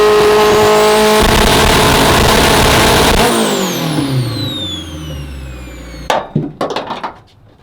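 A street-tuned AWD Honda Civic engine revs loudly and holds high, then its pitch sweeps downward as the revs fall. A burst of sharp, irregular pops and bangs follows near the end.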